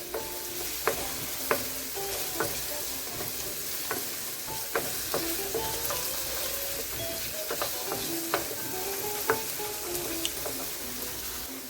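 Carrots fry quietly in hot coconut oil for Jamaican curry shrimp, a soft, steady sizzle broken by scattered clicks and knocks of stirring against the pot.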